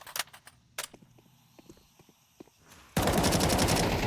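Gunfire in a Counter-Strike match: a few sharp isolated shots and clicks, then a sudden sustained loud burst of rapid automatic fire that fills the last second.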